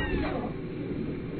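A single close cat meow, drawn out and slightly whiny, fading into quiet room noise.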